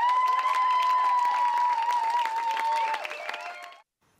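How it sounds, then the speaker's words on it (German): Audience applause at a live television broadcast event, a dense wash of clapping with a sustained tonal hum running through it, steady and loud before cutting off abruptly near the end. "aber den Applaus des Publikums,"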